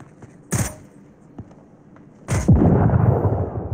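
A grenade explosion and gunfire in the VR shooter Onward: two sharp, loud shots about two seconds apart, followed by a heavy blast whose rumbling roar carries on to the end.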